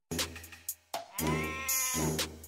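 An old goat bleats in two or three wavering, nasal calls in close succession, the middle one long and drawn out, heard alone and fairly loud.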